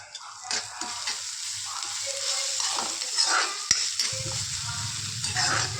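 Spiced chutney with moth beans roasting in a hot pan in a village kitchen, a spoon scraping and stirring through steady sizzling, close and continuous, with a low hum underneath and no talk.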